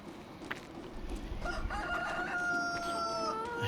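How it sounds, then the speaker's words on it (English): Farmyard chickens at a barn in Tuscany, hens clucking softly at first, then a rooster crowing in a long drawn-out call, close by over a steady low background. "see how the chickens are doing."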